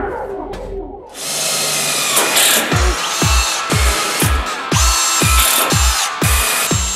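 A power drill with a Klein Tools driver bit spins up loudly and runs steadily, with a regular series of thudding knocks as the screw is driven in, close and with no talking.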